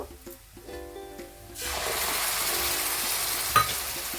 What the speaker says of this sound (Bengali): অ্যাড করে একদম ভালোভাবে আমি কষিয়ে নেব কাজু বাদাম দিয়ে ভালো করে কষিয়ে নিয়েছি